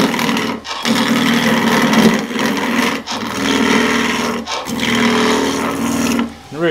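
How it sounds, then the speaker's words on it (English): A skew chisel roughs down a wood scoop blank spinning on a lathe, giving loud, steady buzzing cuts in several passes with brief pauses between them. "That's not quite square, so I'm going to rough this down with a skew."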